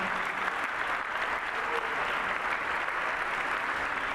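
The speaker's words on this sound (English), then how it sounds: "So we definitely a round of applause to all of them for a great career at Woodlands High School." Gathering at The Woodlands High School's 2021 signing day applauding the athletes, steady many-handed clapping at moderate volume that holds evenly through the whole stretch.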